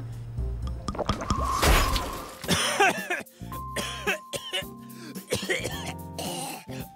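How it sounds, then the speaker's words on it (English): A puppet character gives a couple of harsh coughs and throat clearing, close by, with some liquid sounds and voices talking around them. "Hey man, drink this. It might get rid of that cough."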